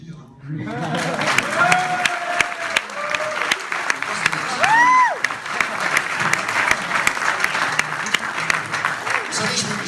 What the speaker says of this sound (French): Bon, vous ne pouvez pas applaudir, hein?